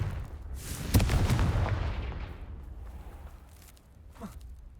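A Confringo blast spell cast in Hogwarts Legacy lands as a sharp fiery boom with a rumbling tail that fades over a few seconds, followed later by a softer whooshing burst.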